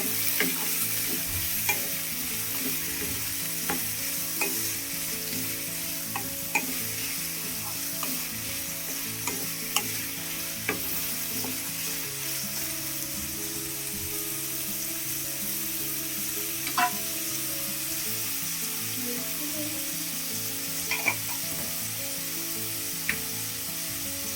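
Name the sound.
stirring vermicelli upma with tomato in a pan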